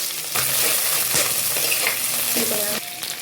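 Green chillies, crushed garlic and curry leaves sauté in hot oil for a village-style dried fish curry, a loud continuous sizzle close by with occasional stirring clatter.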